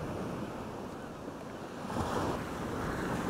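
Sea waves wash around a tripod on the shore, a continuous close rushing surge that swells partway through, mixed with wind buffeting the microphone.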